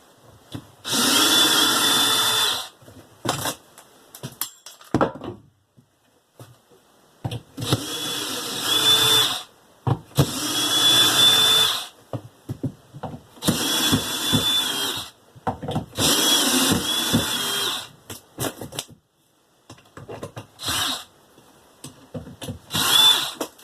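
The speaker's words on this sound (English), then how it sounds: "Now we just take our drill and remove all of these shelves." A power drill removing shelves inside a 12x16 tiny house whirs in repeated bursts of a few seconds each, loud and close, separated by short pauses and light clunks.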